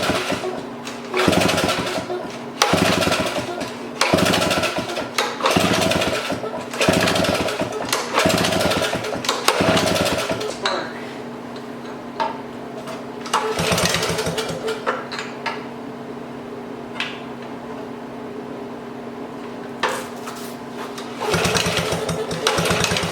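An antique Jari underwater weed cutter's small engine is cranked in a series of rapid, choppy bursts, then catches and settles into a steady, buzzing idle with occasional rattles and knocks.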